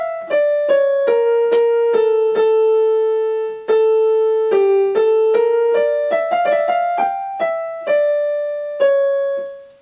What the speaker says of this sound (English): the good theme, which was originally in a major key, is now in a minor key